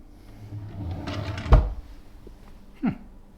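A hotel room drawer at the Carlton Lygon Lodge in Melbourne slides and knocks shut, a scraping glide ending in a firm thud, followed by a second softer bump, close and alone.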